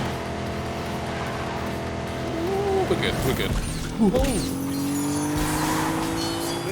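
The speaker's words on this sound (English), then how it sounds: "V6 engine, 200 horsepower." A Ford V6 car engine of 200 horsepower drones steadily while racing in The Grand Tour video game, its pitch rising as it revs, with tire noise and a brief thump midway, under excited speech.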